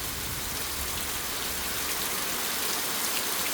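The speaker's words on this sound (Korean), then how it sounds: "비가 엄청나게 쏟아집니다" Heavy rain pours down steadily after a typhoon, a dense, unbroken roar of water hitting surfaces, loud and close, with no voices.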